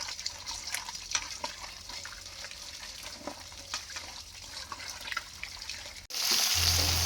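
Water runs steadily from a tap while fish are washed in a kitchen, a soft continuous splashing that swells into a louder, fuller gush near the end.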